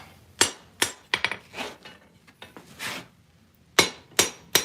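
Forged blacksmith tongs struck with a hammer on a block to tidy a chamfer, a series of sharp, ringing close-up blows in uneven clusters with short pauses between them.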